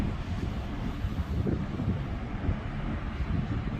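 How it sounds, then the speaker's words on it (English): Steady, heavy wind roars and buffets the microphone on the open front deck of a cruise ship coming into port, a constant low rumble with no voices. "Sorry if it's a little windy out."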